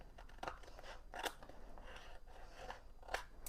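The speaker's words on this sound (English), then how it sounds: "let's cut off the excess here" Scissors snipping off excess scrapbook paper: several crunchy, irregular cuts close by and quiet, with no one talking.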